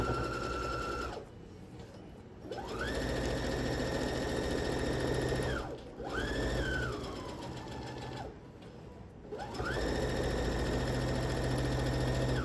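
Sewing machine quilting a charm pack quilt, running in three long bursts of steady high whirring motor hum, close and loud, with brief pauses between runs.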